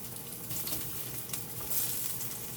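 Sweet potatoes and Irish potatoes saute in a pan, giving off a soft, constant hissing sizzle with faint crackles, fairly quiet and with no voices.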